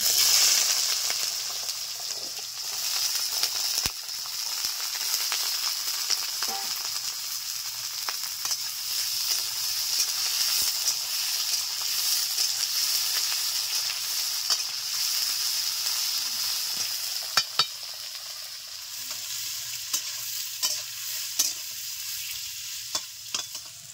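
Amaranth stalks frying with black cumin in a pan, giving a continuous bright sizzle with scattered crackles and a few stirring clicks toward the end, no voices.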